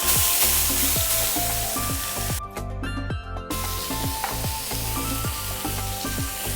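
Prawns sizzling loudly on a grill in a home kitchen, a dense continuous frying hiss with scattered pops and crackles that briefly dips before carrying on.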